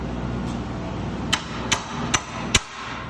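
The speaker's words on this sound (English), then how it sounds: "You'll just need a little bit of a rubber mallet to tap it over top of that rivet." A rubber mallet taps a rail brace down over a rivet on an Arctic Cat, giving four short, dull knocks spaced unevenly over a few seconds against low background noise.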